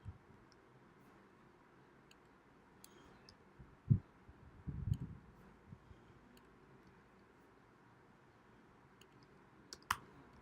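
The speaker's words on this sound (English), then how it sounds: "So just randomly clicking here" A computer mouse clicks while an online form is filled in: a few sparse, quiet clicks spread out with long near-silent gaps, over a faint background hum.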